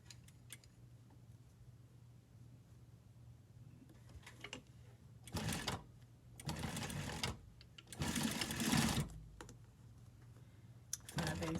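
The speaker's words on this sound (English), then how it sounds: "Go ahead and pin, and then sew your shoulder seam on." A sewing machine stitches the shoulder seam of a cowl neck blouse in several short, quiet bursts of rapid mechanical whirring, separated by pauses with faint clicks and handling noises.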